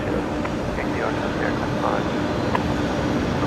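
A passenger airliner rolls for takeoff on runway 19 left at Brisbane Airport at night, a steady broadband engine roar heard from a distance with people talking over it throughout.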